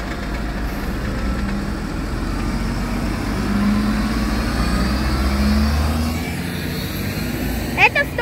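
A city bus on route 104 rumbles past with a swelling engine drone that peaks midway and fades, followed by a couple of faint clicks near the end.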